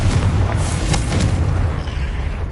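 Confringo fire-blast spell explosion in the Hogwarts Legacy video game, sustained rumbling booms with several sharp bursts layered over continuous loud low-end combat noise, no talking.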